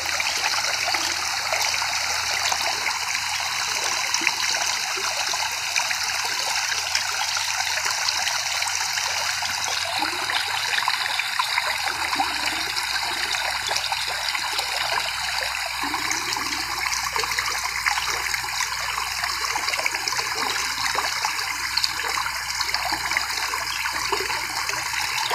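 Water rushes strongly through a rice paddy field, a steady loud continuous flow with splashing and trickling throughout, alone with no voices.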